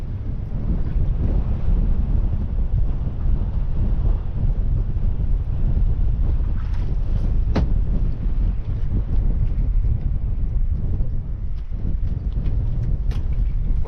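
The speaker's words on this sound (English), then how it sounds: "That wind is really picking up. I'm sorry if it's coming through on the camera. Blowing in right at us." A strong northwesterly wind blows straight at a boat and buffets the camera microphone with a steady, loud roaring rumble that never lets up, with no talk.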